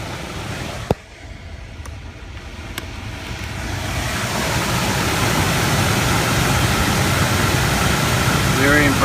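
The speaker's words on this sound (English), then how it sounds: "That thing is blowing some serious air." A 2005 Scion tC ventilation blower motor fan runs on its high setting, giving a steady broadband rush of air that swells and holds loud after a couple of seconds, following a click.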